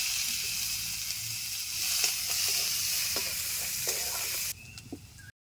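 Mustard oil frying with whole cumin seeds and chopped onion for a gozar fish curry, a continuous close hiss and sizzle with scattered small pops and stirring clicks, quieting abruptly near the end, no voices.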